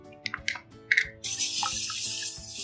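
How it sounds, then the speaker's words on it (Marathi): Water starts running steadily after a few light clinks and knocks, a continuous close splashing rush as mung beans are rinsed in salted water. "आता हे थोडस मीठ टाकून धुवून घ्यायचे"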